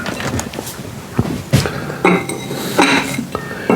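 Lid goes onto a crock pot amid clattering kitchenware: a few sharp clinks and clunks of ceramic and metal, close and fairly loud, spaced irregularly over a few seconds.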